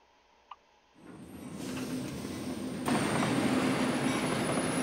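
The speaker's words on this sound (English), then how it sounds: "I do apologize for the train being so loud." A train in American Truck Simulator rumbles in and roars past at close range, growing loud and steady, with a faint high squeal of wheels over the clatter.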